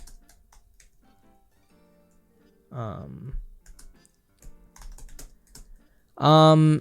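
Someone types on a computer keyboard, making quick, light clicking taps in short bursts, while a voice talks in between.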